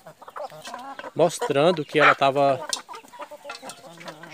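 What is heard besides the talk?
free-range hen clucking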